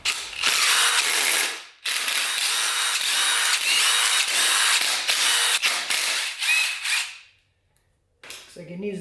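Ratchet with a 10 mm socket removing bolts from a high-mileage LQ4 engine during a teardown, a loud, rapid, continuous ratcheting whir close by that stops once, then resumes and halts.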